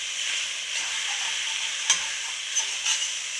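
Garlic and boiled, flaked saltfish stir-fry in a pot over high heat for buljol, giving a constant bright sizzle with a few sharp scrapes of a utensil against the pot bottom, and nobody speaking.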